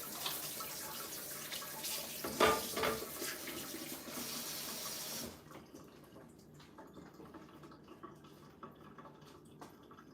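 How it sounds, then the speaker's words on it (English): Hands washed under a running kitchen tap during home cooking, a steady rush of water with splashing and a brief clatter midway, then the tap shuts off and only faint room noise remains. "Wash my hands."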